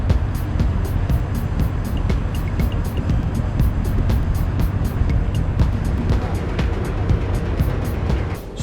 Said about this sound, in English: So that's the sound of the engine starting up